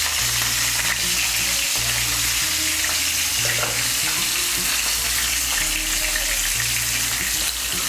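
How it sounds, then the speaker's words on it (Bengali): Pointed gourd pieces with turmeric and salt frying in oil give a dense, continuous hiss and sizzle, loud and close, with low rhythmic stirring bumps beneath and no talking. "নুন আর হলুদের গুঁড়োটাকে মিশিয়ে নিয়ে পটলগুলোকে লাল করে ভেজে নেব।"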